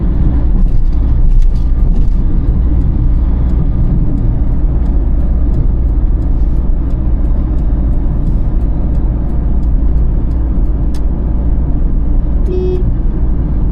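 A car overtakes on a national highway between Tiruvannamalai and Chennai, heard from inside as a steady, loud roar of engine and road noise, with a short horn toot near the end.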